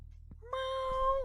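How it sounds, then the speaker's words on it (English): A single loud, drawn-out cat meow, clear and close, after a brief faint sound. "You hear a loud meow."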